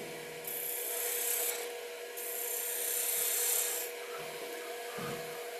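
Woodturning tool shaving a small chamfer into the end of a lidded piece on a lathe, heard as two sustained bursts of bright hissing cutting noise over a steady motor hum, with a brief pause between them.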